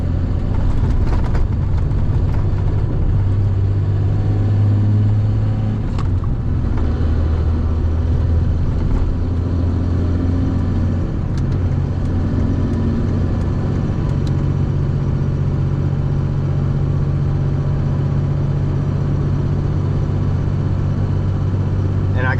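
A car drives on an icy road during the 2021 Texas winter storm, its engine and tyre rumble steady and close inside the cabin, and a person talks over it throughout.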